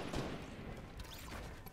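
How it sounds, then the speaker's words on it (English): Gunfire in the mobile battle royale game Fortnite, a dense burst of overlapping shots crackling steadily through the whole moment at moderate loudness. "I think I heard some gunshots over here"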